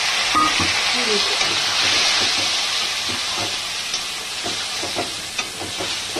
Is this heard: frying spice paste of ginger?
yes